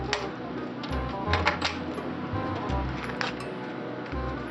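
Snips from cutters slicing through a wiring harness cable during a Nissan 240SX S13 fender harness tuck, a few short crisp clicks and crunches close up amid low handling noise, no talk.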